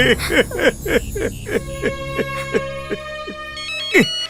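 A phone ringtone plays as a bright, melodic electronic tune with repeating rising notes and sustained tones, fairly loud and close, with no talking over it.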